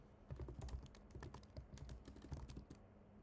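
Fingers tap out a quick burst on a computer keyboard, soft close clicks in uneven runs with brief pauses between words, quiet and without talk.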